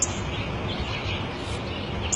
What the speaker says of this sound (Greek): Τόσες φορές σου είπα, είναι ένα σπουργίτη!